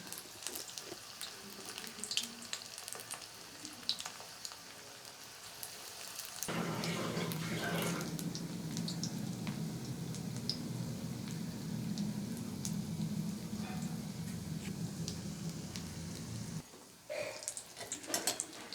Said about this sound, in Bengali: আমি লাল লাল করে ভেজে নিচ্ছি